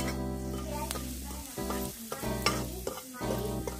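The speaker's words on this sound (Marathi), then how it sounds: "आता आपण तेलामध्ये हळद, लाल तिखट, काळी मिरी पावडर आणि धना पावडर टाकून घेणार आहोत।" Turmeric, red chilli, black pepper and coriander powders fry in hot oil for a village-style shev amti, with steady sizzling, scraping stirs and a few sharp clinks over a constant low hum.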